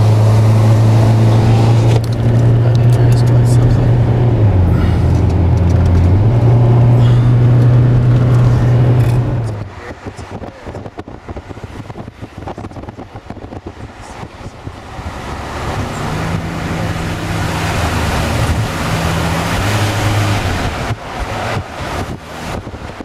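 A car travels a road near Kingston, and loud wind buffeting and engine drone fill the cabin. The roar drops partway through to a rougher, bumpier rumble, then builds again.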